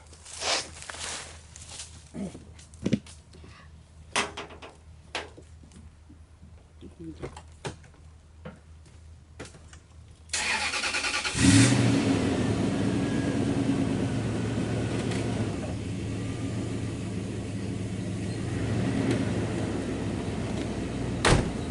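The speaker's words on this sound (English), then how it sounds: "Alright, I got the truck running." A truck engine cranks and starts about midway to power a Stickler log splitter, settling into a steady loud idle after a stretch of clicks, bumps and handling noises, with a voice talking in between.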